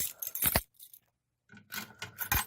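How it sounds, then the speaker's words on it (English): A ring of keys jangles as one is pulled free from a key station: a bright metallic rattle, a short pause, then a longer burst of clinking and rubbing, close and alone. "I can get the right key out."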